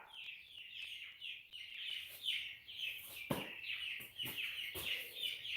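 Chickens in a shop yard make loud, repeated high calls and squawks in overlapping bursts, with a few sharp louder clucks near the middle, close to the microphone.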